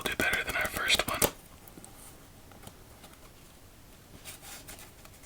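A deck of playing cards riffled in a shuffle for solitaire, a close, crisp burst of rapid fluttering card snaps lasting about a second, then stopping abruptly, followed by quiet with a few faint handling sounds.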